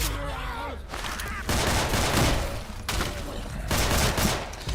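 Rapid bursts of gunfire in Left 4 Dead 2 crackle in loud, dense volleys separated by short pauses, with a brief voice heard at the start.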